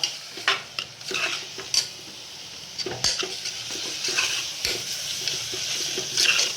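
Khichdi ingredients being roasted and stirred in a pan with a little oil, a spoon scraping and clinking against the metal in irregular strokes over a soft, steady sizzle, close up with no voices.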